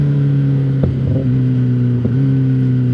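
Loud, steady revving from an Austin Racing exhaust, a deep droning tone held throughout with two brief throttle blips or pops breaking it, close and alone with no talk.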